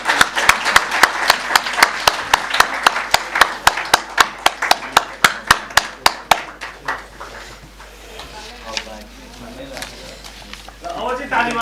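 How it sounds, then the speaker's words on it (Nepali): Audience at a Christian gathering in Nepal claps in a steady, synchronized rhythm for about six seconds, loud and close, while a ceremonial lamp is lit; the claps then stop, leaving room murmur and talk. "अब ताली बज्छ।"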